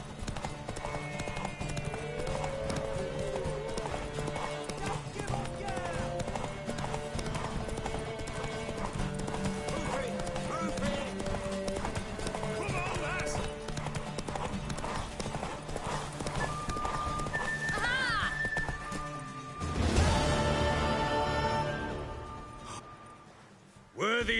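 Horse hooves clip-clopping at a steady gallop in The Witcher 3, with a whinny rising briefly near the end over game music and crowd voices, loud and close.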